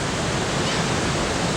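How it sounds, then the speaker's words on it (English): A roaring waterfall, millions of gallons of water pouring over rock, fills the air with a dense, steady broadband rush that holds loud and unbroken throughout, with no voices. "Do you hear and feel the strength of millions of gallons of water running over nature?"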